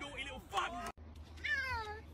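A cat meows in a couple of drawn-out, harmonic cries, loud and close, mixed with a person talking over it.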